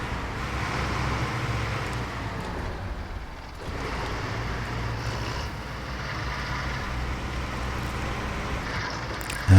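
A rough, low old-truck engine rumble in the video game SnowRunner drones steadily throughout, with a brief dip in the middle before the motor noise resumes at the same level.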